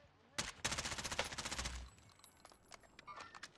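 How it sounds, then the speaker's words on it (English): Rapid automatic gunfire in the video game Warzone Resurgence, a loud burst of evenly spaced shots followed by scattered sharper single cracks and quieter distant pops, with faint speech underneath. "I'm getting shot at."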